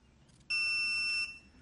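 A TST 507 tire pressure monitor with flow-through sensors sounds one steady, shrill electronic alarm beep lasting under a second, clear and close against a quiet room.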